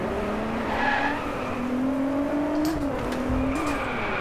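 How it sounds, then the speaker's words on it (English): A car in the DriveClub racing game skids as the handbrake is tapped, a steady engine roar with rising tire squeal sliding in pitch, loud and close throughout. "Just tap that handbrake a couple times."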